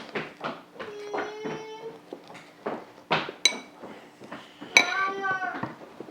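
A utensil mixes lemon juice into a scone glaze in a bowl, giving scattered scraping clinks and taps against the dish amid some background sounds.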